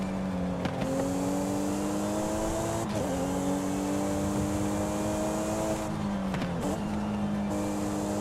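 A tuned-for-grip car's engine drifting in Forza Horizon 5, loud sustained revving that dips and climbs with brief gear-shift breaks and faint tire squeal, close and continuous.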